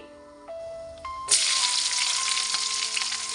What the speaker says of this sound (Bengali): এবার পেঁয়াজগুলোকে আমি একটু ভেজে নিচ্ছি